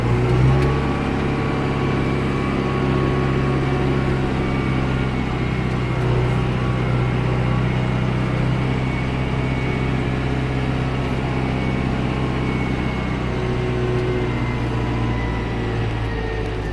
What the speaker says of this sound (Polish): Spuszczamy ręczny, rewers do przodu i jedziemy ciągnik chodzi naprawdę doskonale.